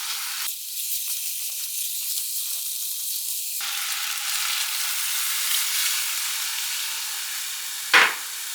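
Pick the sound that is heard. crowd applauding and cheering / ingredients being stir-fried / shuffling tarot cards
ingredients being stir-fried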